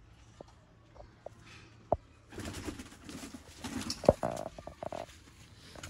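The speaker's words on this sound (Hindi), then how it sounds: "कबूतर है।" Pigeons, Sialkoti breed, cooing in a few soft low calls, with a fuller burst of cooing and fluttering activity in the second half, fairly close.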